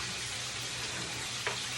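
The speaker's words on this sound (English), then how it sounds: "I'm currently frying my chicken now" Lemon pepper seasoned chicken frying in a pan gives a steady, soft sizzle and crackle, with faint low pulses underneath and one brief clink near the end, no talking.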